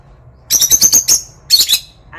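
Cockatiels with crested heads and orange cheek patches chirp in two quick bursts of sharp, repeated high calls, close and fairly loud against a quiet room, with a short pause between bursts.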